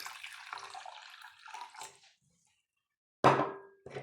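A cup of warm water is poured into flour to start a bread dough, heard as a close splashing pour that trails off, then a brief second splash after a short pause.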